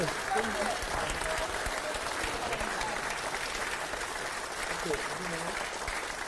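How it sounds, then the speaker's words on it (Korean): A crowd applauds at a Korean People Power Party political event with sustained, dense clapping throughout, while a voice speaks faintly underneath. "박수 한번 박수 한번"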